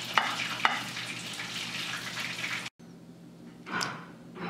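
Seasoned fish being stirred in a frying pan, a loud continuous sizzle with sharp scraping strokes early on and a surge of hissing near the end after a brief gap.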